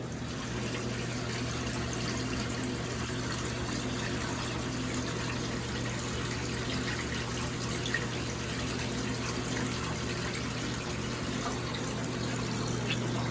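Magic Chef 3.0 portable washing machine draining, a steady continuous rush of flowing water over a low pump hum that holds evenly throughout, close and moderate in level, with no speech.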